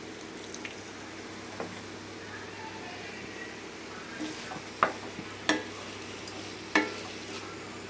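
Pointed gourd and potato curry, cooked without onion or garlic, bubbles softly in a pan after water goes in, with a few sharp scrapes and knocks of the spoon as it is stirred.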